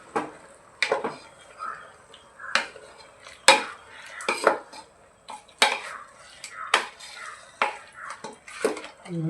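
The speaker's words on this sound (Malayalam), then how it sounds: "നന്നായി ഒന്ന് ഇളക്കി വിട്ടിട്ട്" Chicken curry with tomatoes stirred in a pot, repeated sharp clinks and scrapes of a spoon against the metal in an uneven rhythm, close by and fairly loud.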